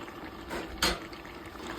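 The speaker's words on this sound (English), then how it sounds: "then I'm gonna add my water." Water pours into a gumbo pot with chicken, hearts and livers sautéing, a brief splashy gush near the middle over a low background sizzle and bubbling.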